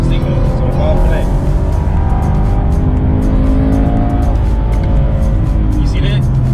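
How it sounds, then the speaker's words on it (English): A 2019 Chevrolet Camaro SS engine revs hard to redline during a rolling acceleration run, its tone rising and then flattening under constant loud wind and road roar, with someone talking over it. "You see how it redlines and it just starts to fall flat?"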